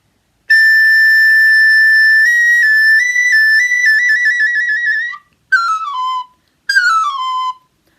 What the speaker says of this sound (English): Okay, so that's a sopranino.